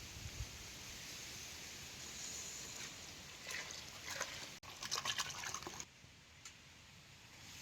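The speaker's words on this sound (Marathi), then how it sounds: "आता या अळणी पाणी यात वाचायचं." Water pours into a pan of oil-roasted masala for a village-style mutton curry cooked on a wood fire, a steady liquid gush and sizzle lasting several seconds before settling.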